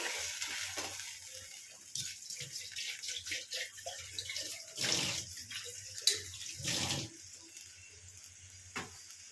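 Water is poured into a cooking pot in a kitchen, giving intermittent splashing and gurgling bursts at moderate closeness over a quiet background.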